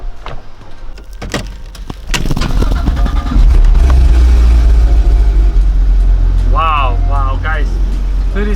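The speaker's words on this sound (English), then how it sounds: "Let me try to start the car." A wrecked, gray 2016 Porsche GT3 RS being rebuilt cranks and fires up, then settles into a loud, steady engine roar with occasional revs. A voice briefly talks near the end.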